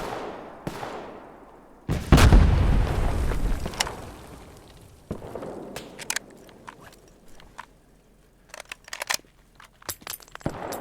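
Gunfire in the Roblox war game Guerre de l'Est, with scattered shots and a heavy blast around two seconds, then bursts of sharp cracks spread unevenly across the rest, some close and loud, others thinner and farther off.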